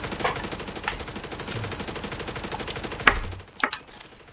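Rapid, repeated gunfire from a rifle in The Division 2 rattles on in a steady stream, then a sharper, louder shot breaks through near the end, followed by a couple of scattered bursts.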